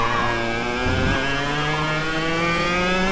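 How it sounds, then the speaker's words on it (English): A racing kart's small engine revs steadily in the Automobilista sim, a continuous buzzing drone with harmonics that slide upward as it pulls, loud and alone throughout. "You don't want to be too low in the revs because not a lot of torque from this engine, of course."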